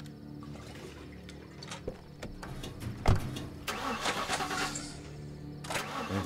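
A car engine in the video game The Last Stand Aftermath cranks and turns over with a sharp burst, then settles into a rough running rumble amid scattered clicks and game-like noises; the engine is unrepaired.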